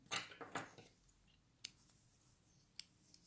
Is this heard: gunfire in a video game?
no